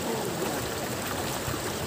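Steady rush of a river flowing below Lodh Falls, Jharkhand's tallest waterfall, in summer, heard as continuous broadband water noise close by with no voices.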